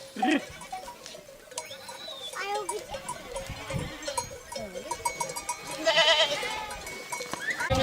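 Sheep bleat repeatedly on a Yörük farm at shearing time, several animals calling close by in overlapping, wavering cries, with a bell clanking and people talking in the background.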